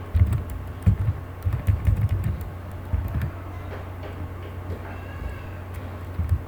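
Computer keyboard typing as C++ code is entered, a steady run of soft, close key taps at an uneven rhythm with a few bursts of quicker strokes, no talking.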